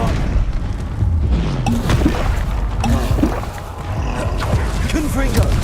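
Bombarda spell explosions in Hogwarts Legacy: several heavy booms and crackling blasts close together, with battle noise throughout and a short lull near the four-second mark.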